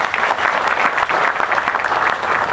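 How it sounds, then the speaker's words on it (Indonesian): A crowd at a Kenduri Cinta gathering claps loudly, a dense, continuous patter of many hands filling the space at a steady intensity throughout, with no voices over it. "Tepuk tangan untuk dia."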